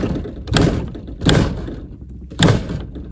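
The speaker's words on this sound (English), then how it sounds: "Door doesn't want to shut." A car door is swung shut three times at a campground in Rockhound State Park, New Mexico, landing with dull thuds each time because it fails to latch, close by and spaced about a second apart.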